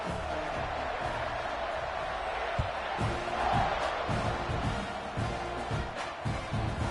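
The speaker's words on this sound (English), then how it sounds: "this crowd is buzzing after that last score" Stadium crowd in the NCAA Football 26 video game, a steady dense buzz of many voices with scattered thumps and whoops, holding at a constant roar for the whole stretch without clear speech.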